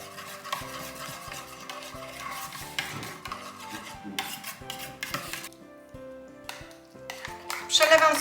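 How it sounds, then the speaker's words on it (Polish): Ingredients for keto gingerbread biscuits are stirred together in a bowl, making soft scraping and rubbing sounds. Background music plays over the mixing. "I to wszystko mieszam."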